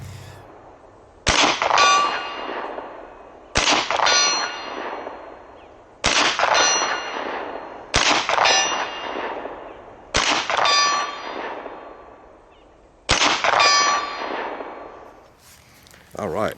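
Ruger 10/22 takedown rifle fires six sharp, ringing shots at spaced intervals, each crack followed by a metallic clang of a steel target, outdoors with a short decay after every shot.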